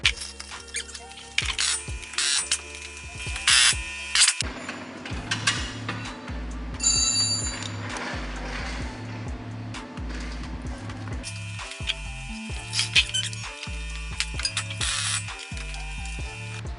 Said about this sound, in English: I have prepared a jack here so that I can jack up the axle